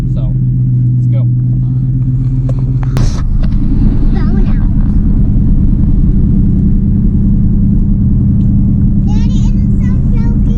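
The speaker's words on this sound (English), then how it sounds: "hopefully we're going to do one last burnout" A Ford Ranger 5.0 pickup truck revs hard for a tire burnout, its loud engine roar jumping in pitch partway through and rumbling on close by, with a voice heard briefly.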